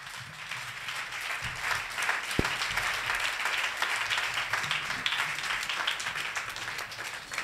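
A church congregation cheers and applauds loudly in praise, dense steady clapping mixed with shouts filling the whole stretch, with one sharp knock partway through.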